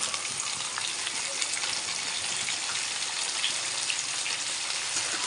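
Tomatoes frying in hot oil in a home kitchen, a steady dense sizzle that holds evenly and fairly close throughout, with no talk over it.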